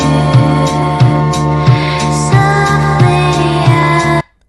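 AI-generated song made with Udio, a loud, full mix with a steady, punchy beat and sustained melodic layers that cuts off abruptly just before the end.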